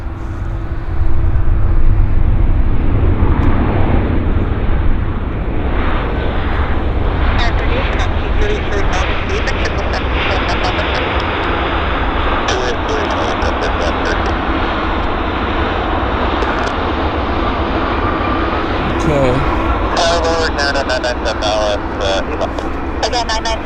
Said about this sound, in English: Decent landing on the WestJet.